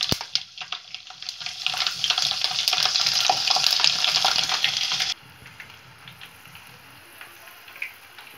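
Garlic sizzling in hot oil for a tempering while making raw tamarind pickle: a loud, steady frying hiss lasting about five seconds, then cutting to a much quieter background.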